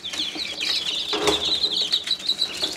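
Newly hatched chicks peeping in a hatching setup, a continuous chorus of high, rapid, overlapping peeps close by, with a brief rustle partway through.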